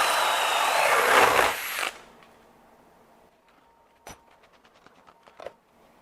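A DeWalt DCD805 XR 20V MAX hammer drill bores with a 1.5 inch self-feed spade bit, a loud, dense whirring grind that runs for about two seconds and then cuts off, leaving a few scattered clicks and light knocks.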